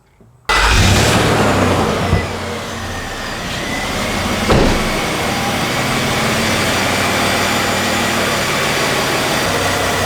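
A car engine idles steadily after an engine flush with fresh oil refilled, a loud continuous low rumble that starts abruptly and holds an even drone, with faint whines and a couple of brief knocks.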